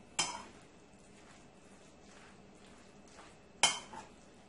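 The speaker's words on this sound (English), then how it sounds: "I'm going to go ahead and give all my mixture here a nice mix" Utensil stirring a tuna fish wrap mixture in a bowl: two sharp metallic clinks against the dish bracket a stretch of faint scraping and mixing strokes, close and quiet, with no talk.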